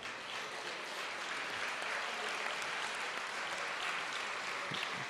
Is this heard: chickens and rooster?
no